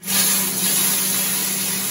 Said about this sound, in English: I'm gonna take just some cooking spray that I use, which is a little flammable